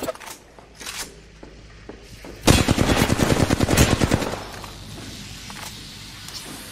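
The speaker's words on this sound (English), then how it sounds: "Getting shot at." Gunfire in a battle-royale shooter game: a few sparse shots early, then a loud close burst of rapid automatic fire lasting about two seconds, followed by quieter scattered pops and ambient noise.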